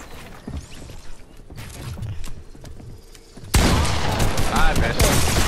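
A minigun firing in the Fortnite video game, a loud sustained roaring burst of rapid fire that starts abruptly midway, after quieter game sounds and a voice talking.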